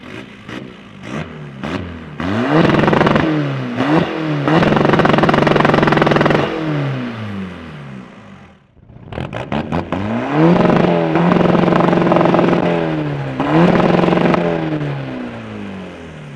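Two tuned 320 hp diesel hatchbacks, a VW Golf GT TDI and a Skoda Fabia vRS, rev repeatedly up close, with sharp rising and falling engine sweeps, a brief pause midway, then another series of loud revs.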